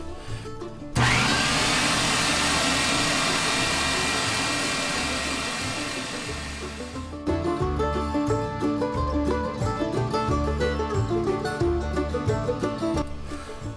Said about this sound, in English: I'm going to run that through the fine plate on my grinder